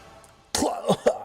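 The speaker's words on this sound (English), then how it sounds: "Dario tries to shout classy, but coughs up a little bit of blood." A person gives a short, rough cough with throat clearing, two or three harsh bursts close to the microphone after a moment of near silence.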